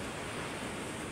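Waves washing onto a seashore, a steady broadband surf wash that stays even and unbroken throughout, fairly faint, with no voices.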